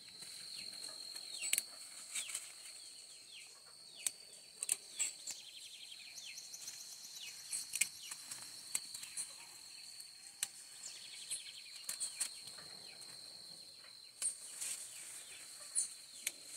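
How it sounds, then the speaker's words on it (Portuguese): Maritaca parakeets in an organic vegetable garden, with faint intermittent chirps and calls and scattered soft flutters and pattering, distant and quiet over a steady high insect-like tone. "As maritacas tá aí"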